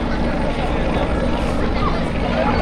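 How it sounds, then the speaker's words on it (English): A helicopter arrives at a school commissioning ceremony, its loud, steady rotor and engine roar filling the air close by, with faint crowd babble underneath. "he's coming in this helicopter there."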